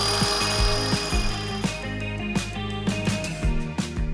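A circular saw whines continuously while cutting lumber, with repeated sharp knocks and clunks of wood throughout, close and loud, with no talking.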